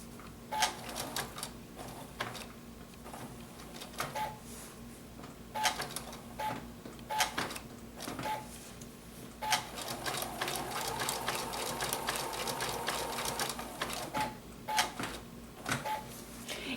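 A sewing machine stitches appliqué onto an autumn table topper, running in steady bursts of rapid mechanical ticking with brief pauses between runs, close and fairly loud with no talking.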